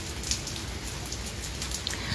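Steady rain falls over a garden in September, a soft continuous patter of drops close by with no other sounds.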